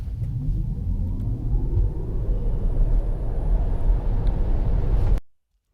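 A 2020 Tesla Model 3 Standard Range Plus launches from a standstill, a deep continuous rumble of tire and road noise swelling as it accelerates, then cutting off abruptly.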